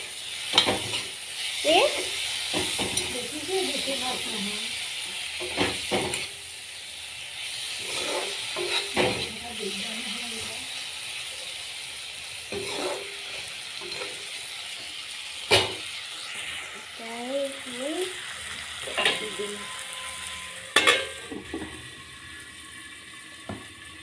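Potatoes fry in a pan, giving a steady background sizzle broken by stirring scrapes and clatters, while people speak intermittently nearby over the cooking.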